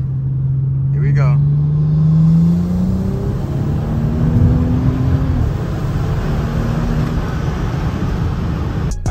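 A turbocharged car accelerates onto a highway while shifting up toward fourth gear, its engine note climbing steadily and rising in pitch between shifts as a close, loud drone with road rumble underneath.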